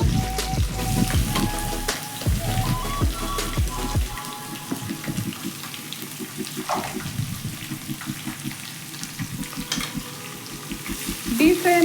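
Thinly sliced onions, two of them, hitting hot oil for tomato chitranna, first a loud sizzle with stirring knocks, then a steadier crackling fry with rapid ticking pops, close by, with no talk.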